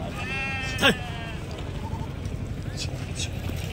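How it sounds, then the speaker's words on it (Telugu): At a busy sheep market in Angallu, a single loud, wavering bleat from a nearby sheep or ram stands out over a murmuring crowd and background voices. "ఎన్ని ఉన్నాయి పొట్టేళ్ళు"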